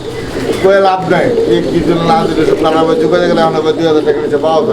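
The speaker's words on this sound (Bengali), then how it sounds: "আপনারা এটা হচ্ছে শর্ট ফেস কবুতর নাকি শর্ট ফেস কবুতর কালো রঙের মধ্যে একটা জোড়া দেখতে পাচ্ছেন" Short face pigeons, black ones among them, coo steadily at a busy pigeon market, their soft rolling calls near and continuous beneath constant overlapping chatter from traders and buyers.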